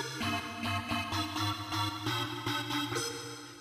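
A synthesizer plays with its filter switched off, so the tone is bright and unfiltered. It repeats a rhythmic bass-and-chord pattern with regular plucky attacks at moderate, steady loudness.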